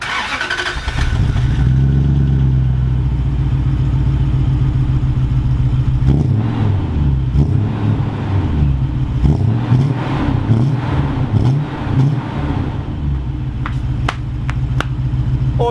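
Car engine running through a newly fitted exhaust: a loud starting roar settles into a deep idle, then repeated throaty revs rise and fall close by, with sharp pops near the end.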